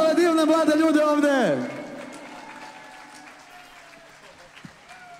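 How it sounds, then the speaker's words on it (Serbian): Audience applause at a school orchestra concert by a gymnasium orchestra in Trebinje, rising as a loud held sung note slides downward and ends, then continuing as a steady, moderately quiet patter of clapping filling the hall. "Molim veliki aplauz za ove divne mlade ljude ovde!"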